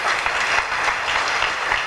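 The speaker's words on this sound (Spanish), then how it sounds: "Denle un aplauso al Señor." A church congregation gives a loud, sustained round of applause during a Sunday worship service, dense clapping from many hands continuing evenly throughout.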